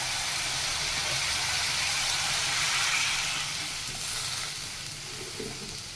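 A spice paste of ground ginger, grated tomato, coriander, cumin and turmeric powders with a little water fries in a pan, giving a steady, close, broad hissing sizzle that eases slightly toward the end.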